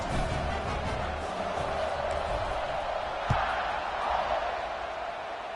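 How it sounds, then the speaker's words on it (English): Football stadium crowd at a Kentucky at Alabama game buzzing after a score, a broad steady roar of many voices with a brief sharp thud partway through, heard from a distance throughout. "this crowd is buzzing after that last score"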